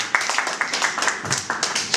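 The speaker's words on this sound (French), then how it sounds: "Est-ce qu'on peut applaudir, s'il vous plaît?" A small group of people claps in a loose, uneven rhythm at a press conference in Paris announcing a Zénith concert, the hand claps close and fairly clear.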